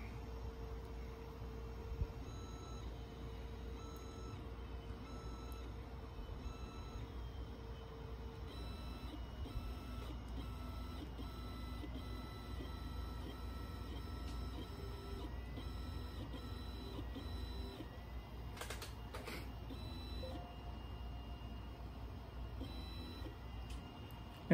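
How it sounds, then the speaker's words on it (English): A FOXAlien Masuter CNC router with a 300W spindle moves its axes under controller command, producing a steady, fairly quiet motor whine and hum that shifts pitch now and then across a long, continuous stretch. "go ahead and move the spindle down to this point for a XY0 home position for the workpiece"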